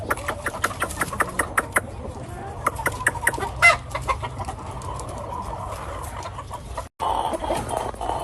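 McRae roundhead gamefowl, a black hen and brown red rooster cross among caged birds, cluck in quick repeated bursts with a brief crow, close by, over a low background hum.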